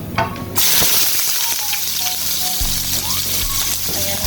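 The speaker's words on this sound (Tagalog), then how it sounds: "So, lagay na natin ang onion." Onion hits a hot pan for a Filipino chicken dish and breaks into a sudden loud, steady sizzle of frying that keeps hissing throughout with faint clinks.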